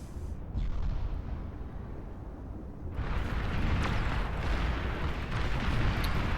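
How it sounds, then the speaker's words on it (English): Missile ships firing in the strategy game Beyond All Reason during an 8v8 match, a continuous rumbling barrage of launches and booms that swells louder halfway through, with no talking. "Looks like the missile ships were finally retargeted, but still firing at effectively dead area."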